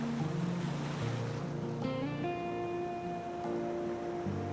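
Sea organ on marble steps descending into the Adriatic in Croatia, with waves pushing air through pipes beneath to make shifting musical tones; steady tonal hum and breathy pipe notes change pitch over continuous surf wash.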